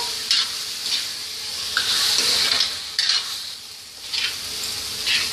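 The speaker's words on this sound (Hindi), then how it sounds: "अब इसमें हम छोले डालेंगे मिला लेंगे इसको" Chickpeas are stirred into cooked masala in a pan for Punjabi chole, several bursts of spoon scraping and wet stirring over a low steady sizzle, close up with no voices.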